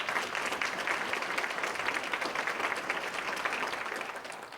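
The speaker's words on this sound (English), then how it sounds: "Let's give them a round of applause." Steady applause from an audience at a middle school ribbon-cutting ceremony, a dense even patter of many hands held throughout and easing off at the end, with no talking over it.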